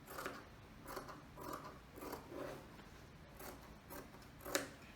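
Scissors snip through pillowcase fabric in a steady series of soft, crisp cuts, about eight quiet strokes, close and alone with no talking.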